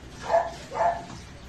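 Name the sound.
dogs barking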